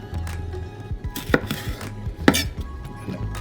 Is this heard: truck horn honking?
no